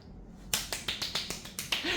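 A sharp hand clap rings out alone, then a quick run of about eight crisp, evenly spaced claps follows, close and bright against near silence.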